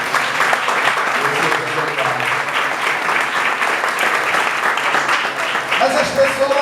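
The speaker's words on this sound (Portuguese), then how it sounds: "mas aplauda o nome do Senhor." A church congregation applauding during a sermon, dense sustained clapping from many people that fills the room loudly, with a voice coming in briefly near the end.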